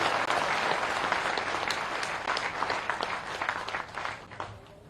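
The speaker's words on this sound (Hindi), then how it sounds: "मेरी बात से सहमत है तो जोरदार तालियां बजाइए।" A crowd at a political rally in Madhya Pradesh bursting into loud, sustained clapping, dense and steady for several seconds before slowly thinning out.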